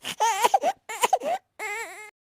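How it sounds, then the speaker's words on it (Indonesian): Sobbing, whimpering cries sound in a horror story narration, close and clear, coming in three broken bursts with short silent gaps and no talk over them. "tiba-tiba terdengar kembali suara tangisan tersebut"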